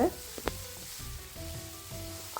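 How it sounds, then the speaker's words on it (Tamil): Onions and curry leaves sauté in a little oil for an egg and squid curry, giving a faint, quiet sizzle with a couple of brief utensil taps. "கறிவேப்பிலையும் சேர்த்து வதக்குங்க."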